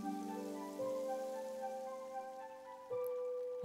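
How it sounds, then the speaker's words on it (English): Soft rain patters steadily on a surface beneath sustained, gentle musical tones, staying faint and even throughout with no voices. "Or perhaps you can feel the pitter-patter of the raindrops."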